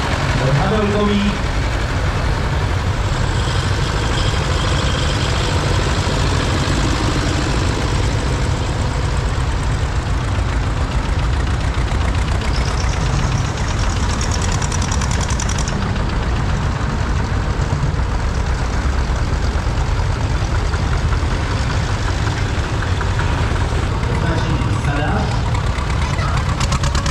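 A vintage 1951 Zetor 25 tractor engine idles steadily with a low, even knocking rumble, loud and close throughout, while people talk nearby.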